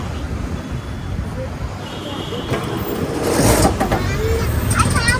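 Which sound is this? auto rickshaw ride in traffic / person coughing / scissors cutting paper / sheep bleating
auto rickshaw ride in traffic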